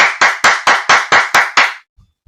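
Seven sharp, loud hand claps in a steady, quick rhythm, close to the microphone and alone, followed by a short silence and a couple of faint thumps.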